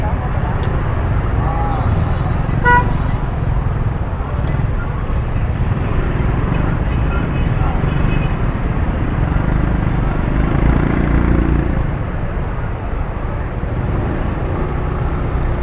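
Busy Saigon street jammed with cars, motorbikes and taxis, a steady dense roar of engines and road noise throughout, with a brief horn toot early on.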